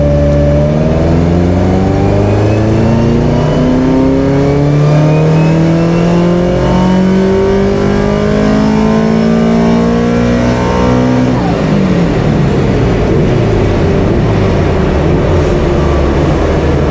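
A Subaru Impreza STi bugeye, tuned past 500 bhp and running on boost, revs hard through rising engine sweeps up to a peak, then drops off into a rough lower drone, loud and close throughout.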